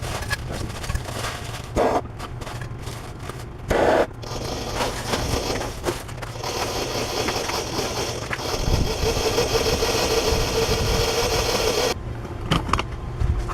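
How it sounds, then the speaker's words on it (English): A new blower mounted on a blacksmith's forge runs with a steady, loud whirring roar, interrupted by a few brief clunks near the start and end, with no talk. "Couple things with this blower that I want to mention."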